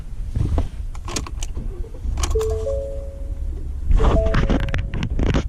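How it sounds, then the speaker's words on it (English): A pickup truck engine cranks and settles into a steady idle, with a constant low rumble and some faint tonal whines and clicks throughout. "Now I'm gonna crank my truck up."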